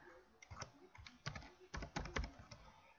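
Typing on a computer keyboard while entering AutoHotkey GUI code: a close, irregular run of clicky keystrokes in small bursts, with no talking.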